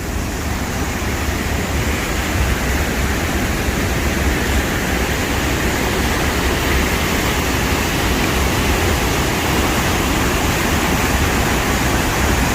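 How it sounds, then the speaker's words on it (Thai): Tad Lo waterfall in Salavan, Laos, gives a steady, dense roar of falling water that stays full and unbroken throughout, with no voices. "น้ำตกตาดอันยิ่งใหญ่และสวยงามที่สุดของเมืองเรางาม"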